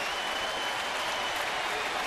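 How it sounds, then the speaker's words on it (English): Applause from Astros fans at an opening-night baseball game, a dense, steady clapping roar from a large stadium crowd throughout. "Had the fans standing and applauding"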